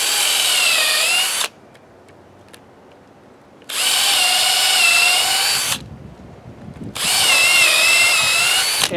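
A power drill whines through wood in three sustained bursts, drilling a pilot hole for a hammock swing stand, pausing briefly between each one. The drill is close and loud.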